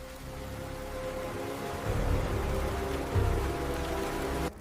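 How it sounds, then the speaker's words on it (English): Heavy rain falls in a steady, dense hiss that fills the whole stretch at an even level, with a few low thumps underneath and no voices. "Heavy rain can threaten an entire colony."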